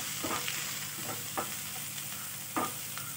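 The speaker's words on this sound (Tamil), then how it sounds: "பச்சை மிளகாவும் வெங்காயமும் நல்லா வதங்கிடுது." Onions and green chillies sauté in a pan for a chana dal sundal, a soft steady sizzle broken by a few clinks and scrapes of stirring, close and alone.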